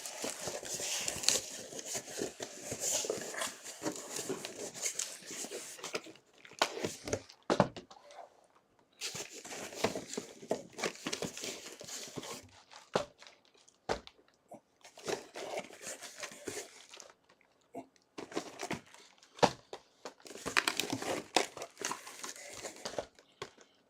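Topps Series 1 jumbo trading card packs ripped open one after another, bursts of crinkling foil and tearing wrappers with short pauses between packs, close and busy, no talking.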